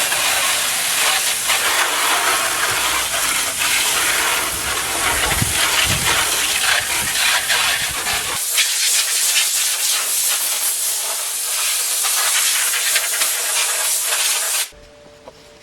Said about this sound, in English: Okay, so we've hosed it off.